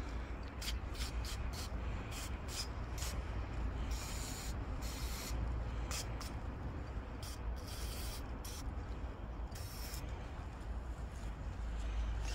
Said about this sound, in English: clean the sump nut with the brake cleaner